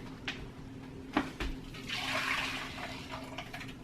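Leftover water from boiling and grinding green coffee beans is poured out of a blender, a soft rushing gush that swells midway and then tapers off, with a few clinks before it.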